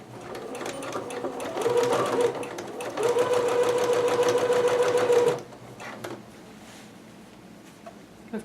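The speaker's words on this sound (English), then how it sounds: "So I'm just going to stitch in between there with a 1/2 inch seam allowance." A sewing machine stitches a cotton kimono seam in quick, even bursts of rapid mechanical whirring, close up, with a pause before it winds down to quiet handling sounds.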